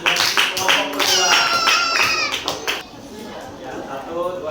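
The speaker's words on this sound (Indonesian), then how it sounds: "kasih tepuk tangan buat kelompok kedua" Classroom applause for a student group, broadband clapping from many hands with children's voices and chatter over it, tapering off after about three seconds into quieter talk.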